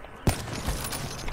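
A single gunshot rings out in a video game shooter during a one-on-one match, a sharp close crack followed by a fainter second shot against steady game background noise.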